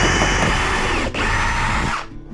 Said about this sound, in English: Proper drill for drilling into the wall